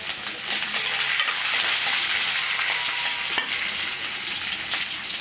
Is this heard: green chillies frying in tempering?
yes